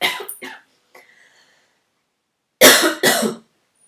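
Two short coughs, a brief catch of breath, then two louder, harsher coughs close to the microphone.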